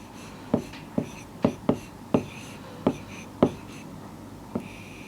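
Sharp taps and short strokes of handwriting as numbers are written out in a class 3 maths lesson, about eight distinct marks spaced irregularly, close and fairly clear against a quiet background.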